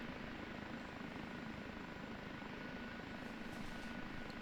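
An OH-58D Kiowa Warrior helicopter idles after startup in the DCS flight simulator, a steady, unbroken rotor and engine drone held at an even level throughout.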